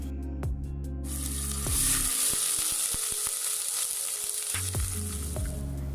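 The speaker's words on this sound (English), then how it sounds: "add 1 tablespoon ginger garlic paste. Saute till the raw smells gone" Ginger garlic paste sautés in hot oil with peppercorns and star anise, giving a steady close sizzle that holds through the whole stretch while soft background music plays underneath.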